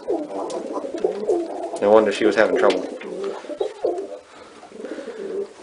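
Pigeons in a breeding loft give soft, rolling coos, close and steady throughout. A person talks quietly over the birds.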